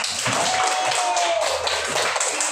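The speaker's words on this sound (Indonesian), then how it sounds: "Ya, tepuk tangan dulu." A class of children in an Islamic religious education lesson clap their hands together in a brief, steady burst of applause for a group, with voices and classroom noise mixed in.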